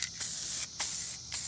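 Aerosol spray can laying a coat of finish on C3 Corvette interior trim panel, heard as three bursts of broad hissing spray separated by short pauses, close and steady, with no talking.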